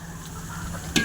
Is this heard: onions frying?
yes